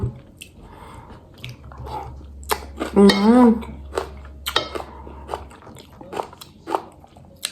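Someone bites and chews crunchy unripe fruit, giving a run of close, crisp crunches and wet chewing, with a short hummed murmur of enjoyment partway through.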